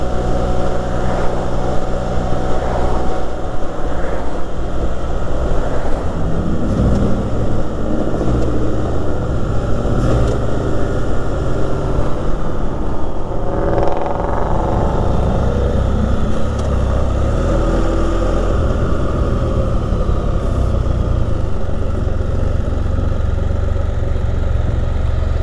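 A Can-Am Spyder RT Limited three-wheeled motorcycle rolls into a roadside gas station in Muskoka, its engine rumbling steadily and close throughout with a broad wash of road and wind noise and a brief rise in engine tone midway, no talk.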